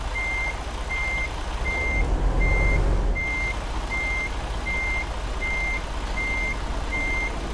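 Steady reversing beeps from a truck backing into a spot in American Truck Simulator, about ten evenly spaced tones over a constant engine rumble, with no talk.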